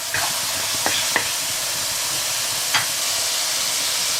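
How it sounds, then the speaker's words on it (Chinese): Mushrooms stir-fried with salt, soy sauce and oyster sauce in a wok, a loud continuous sizzle broken by a few sharp scrapes and clanks of the spatula, close and without talk. "我们给它煸炒入味儿"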